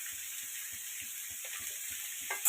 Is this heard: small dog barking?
no